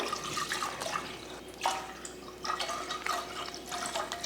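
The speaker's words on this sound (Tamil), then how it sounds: "பாயசம் பண்ணுறதுக்கு நான் வந்து 1 லிட்டர் பால் சேர்த்துக்கிறேன்" One litre of milk poured into a pan while making payasam in a home kitchen, a soft liquid stream with splashing and gurgling that swells and eases in a few surges, quiet and close.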